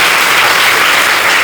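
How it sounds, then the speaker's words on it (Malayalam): An audience at a spiritual talk bursts into dense, loud applause, a continuous wash of many hands clapping at once with no voices heard. "അങ്ങനെ ജീവിക്കാമെന്ന് തീരുമാനിച്ചവരെല്ലാം ഒന്ന് കൈയടിച്ചു കേട്ടാൽ"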